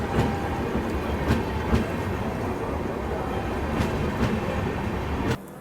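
North East Express passenger train pulling out of a station on a Bihar route, steady rolling rumble of wagons with faint periodic clacks of wheels over rail joints, close and continuous until it drops off near the end.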